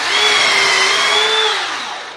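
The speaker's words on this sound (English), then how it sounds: "I'm going to drill a hole into this block I just put there" A power drill bores a hole into a block during the wing fixture setup for a Bearhawk experimental airplane build. Its high, steady motor whine holds close and loud, then winds down near the end.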